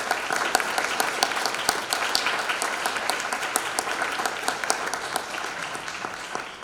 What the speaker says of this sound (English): if you all would join me in offering this group of applause